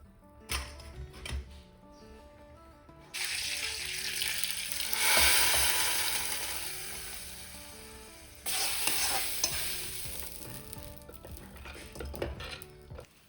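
Lentil curry being stirred after ground paste is poured in, steady scraping and sizzling with occasional clinks of a spoon against the pot, in bursts of varying loudness, no talking.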